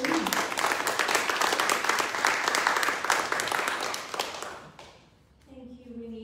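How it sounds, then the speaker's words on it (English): An audience applauds a poet at an award event: dense, steady clapping fills about five seconds, then fades out as a voice starts speaking near the end. "Can we all give Maryam a round of applause"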